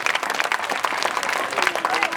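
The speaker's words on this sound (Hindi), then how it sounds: "इसलिए जोरदार तालियां इन बच्चों के लिए।" An audience at a school in Haryana applauds schoolchildren, loud close clapping that fills the whole short stretch, with voices mixed in under it.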